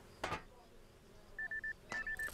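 A notification beep from the Jalopy driving game warns about wearing tires. It comes as a short series of clipped electronic tones, then a second longer run of beeps, under quiet game ambience with a brief voice-like burst.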